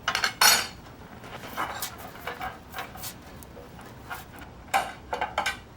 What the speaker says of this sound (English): Grab a cookie tray, just grease it up.